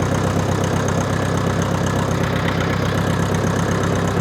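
The engine of a Lamborghini 4R tractor runs while the tractor drives, a loud, steady, low, chugging drone heard close and alone, with no voices.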